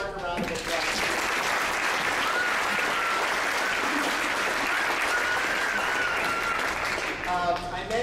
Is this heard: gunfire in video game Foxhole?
no